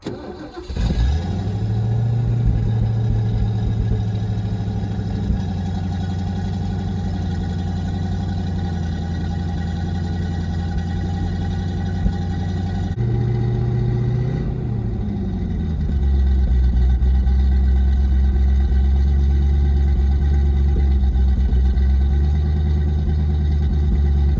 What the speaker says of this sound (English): So I still got this 302 that runs fine.